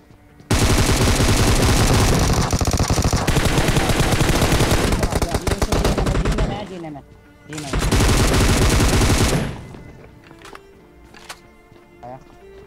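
Dense automatic gunfire rattles in a PUBG battle-royale squad fight. Loud continuous bursts run for several seconds, stop briefly, return in another heavy volley and then fade to scattered faint shots.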